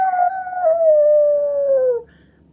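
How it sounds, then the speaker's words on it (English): A dog across the street lets out one long, drawn-out howl that slowly falls in pitch, then cuts off, leaving near silence. "I don't know if you can hear the dog across the street."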